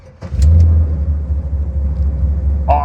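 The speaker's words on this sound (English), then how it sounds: "Awesome sounding exhaust." A frame-off restored 1974 Chevrolet Corvette with a rebuilt 454 V8, aluminum heads, cam and intake rumbles at a steady idle through its exhaust, deep and loud, with a brief bright noise near the end.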